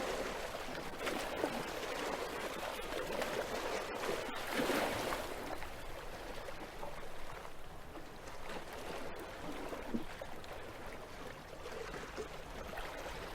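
Ambient water waves wash softly and steadily in a faint, continuous background murmur with a few brief splashes and no clear voices.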